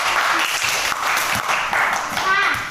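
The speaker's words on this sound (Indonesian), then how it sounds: "Tepuk tangan untuk kelompok 1." Students in an Indonesian classroom applaud a presenting group, a steady wash of many hands clapping close by, with some voices mixed in throughout.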